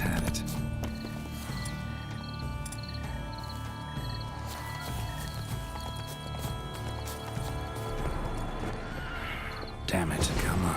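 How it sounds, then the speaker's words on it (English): A horse in the video game The Witcher 3 neighs and whinnies amid clip-clopping hooves and game sounds, with a person talking over it. "I ain't killing the horse."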